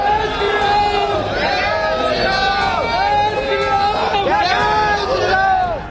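Large crowd of Ram Lalla devotees gathered outside the Ayodhya Ram Mandir before dawn, a dense steady hubbub of many overlapping voices with occasional raised shouts, loud and continuous throughout.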